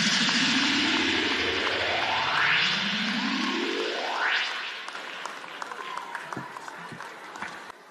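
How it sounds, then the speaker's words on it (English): A big round of audience applause at a keynote address before students and teachers: loud, dense clapping alongside rising sweeping tones, then thinning to scattered individual claps toward the end. "Please, a big round of applause as he's come off stage for the keynote address"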